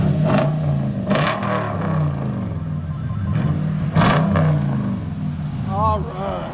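A 2015 Toyota Tundra TRD 4x4 with a 5.7L V8 and true dual Flowmaster Super 10 exhaust revs in repeated throttle blips over a steady deep rumble, with people talking nearby.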